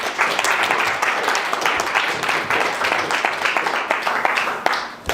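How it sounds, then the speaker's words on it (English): A small audience gives a round of applause for a speaker at a talk on patient-generated mobile health data, with uneven, closely spaced claps that rise and fall and thin out toward the end. "One more round of applause for Ipek."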